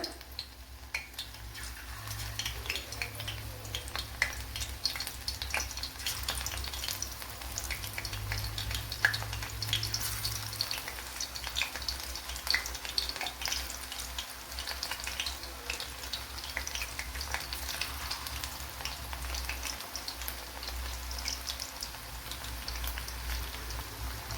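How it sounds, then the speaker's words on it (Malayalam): Slices of pothenkay, a raw plantain snack, fry in hot oil with a faint, steady crackling sizzle that runs unbroken and fairly quiet throughout, with no talking. "ഇവിടെ ഓയിൽ ചൂടായിട്ടുണ്ട്, അതിലേക്ക് ചേർത്ത് കൊടുക്കുക."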